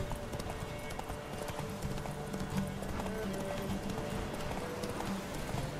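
A horse gallops in The Witcher 3, its fast, continuous hoof clip-clop rolling steadily and loudly throughout with brief snorting, and no one speaking over it.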